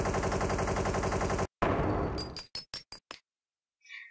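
Several gunshots fired at Fredbear's eyes in the Fun Desktop Destroyer flash game: a sustained burst of rapid fire, then a few sharp separate shots with glassy cracks, and a faint tinkling tail.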